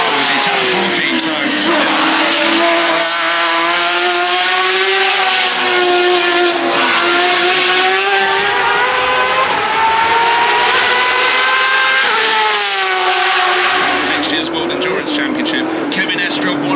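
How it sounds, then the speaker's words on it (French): A brand-new race car climbs the hill at the Goodwood Festival of Speed, its loud, high-revving engine rising and falling through gear changes across the whole stretch, close by and dominant. "See this brand new car heading up the hill."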